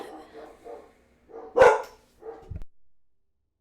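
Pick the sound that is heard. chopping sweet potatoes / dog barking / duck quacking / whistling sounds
dog barking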